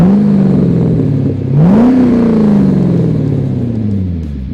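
A stock V8 LS2 6-litre car engine revs hard and close, its loud deep drone dipping briefly and then climbing again before settling into a falling pitch.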